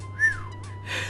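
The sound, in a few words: whistle in video game King's Quest 6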